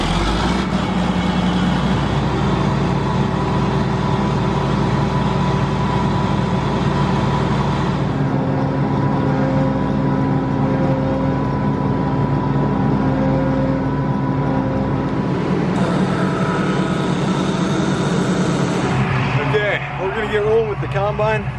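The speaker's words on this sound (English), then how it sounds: "Get rolling with the combine." A combine harvester engine runs in an Iowa corn field during harvest, a loud, constant mechanical drone with humming tones that shift partway through, while a person talks over it.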